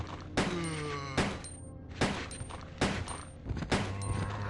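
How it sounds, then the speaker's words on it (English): Repeated gunshots aimed at enemies in the 1998 survival-horror game Resident Evil 2, five sharp loud blasts spaced roughly a second apart, each followed by a ringing decay over a low game-music drone. "Let's run away from them and start shooting them."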